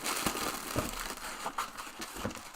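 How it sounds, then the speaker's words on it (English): Plastic bags being handled while unpacking art supplies, with soft irregular crinkling and rustling bursts, fairly quiet and close. "Plastic bags to protect us are here."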